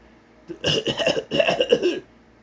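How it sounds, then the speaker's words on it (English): A run of harsh, wet coughs from a dying character in a film scene, two close bursts, loud and near, with no talking. "Do we have to have a million times of him coughing here?"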